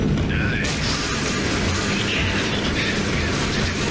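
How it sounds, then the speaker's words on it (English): A forklift rams and smashes through walls in Tomb Raider Legend, producing steady crunching, clattering debris and low mechanical rumble, loud and continuous for a few seconds with a voice speaking over it. "Using the forklift and destroying the walls."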